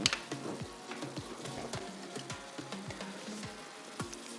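Food sizzles and pops in a frying pan on a stove, with a soft continuous crackle broken by small regular spatters and a few clinks, close and fairly quiet.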